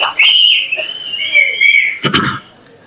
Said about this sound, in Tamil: இவ்வளோ பேருக்கு கை தட்டி விசில் அடிச்சு கொண்டாடுறீங்க